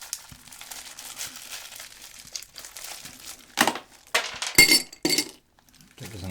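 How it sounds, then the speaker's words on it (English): Glassware set out for Finnish cocktails in an ASMR tasting gives off crinkling handling noises, then a few close, sharp glassy clinks and knocks near the end, with no talking. "So we're gonna need this glass now."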